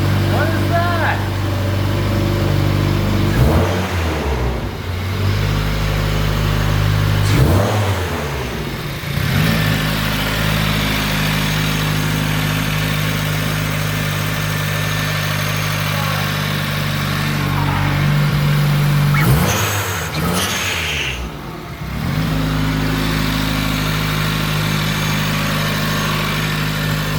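A 2015 Subaru WRX fitted with an upgraded turbo idles steadily up close, broken by several sharp revs that rise and fall, with the engine droning loudly throughout.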